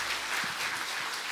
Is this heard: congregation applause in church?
yes